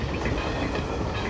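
An airport express passenger train running on rails, heard from on board: a steady, loud rumble of the carriage with faint clickety-clack from the wheels, and no voices.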